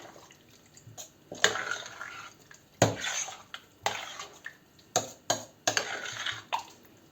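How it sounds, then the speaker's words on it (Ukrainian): Cold borscht ingredients are stirred in a bowl, making a run of wet sloshing swishes and clinks of a utensil against the dish in irregular bursts, close by and with no speech. "і перемішуємо все"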